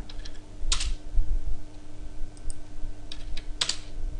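Computer keyboard typing while text is being edited, heard as a few sharp, close key clicks spread irregularly over a few seconds, with no talking.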